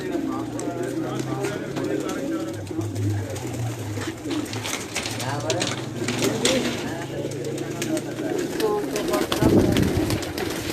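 Pigeons said to come from France coo in low, repeated throaty phrases at a loft, while people talk over them nearby throughout.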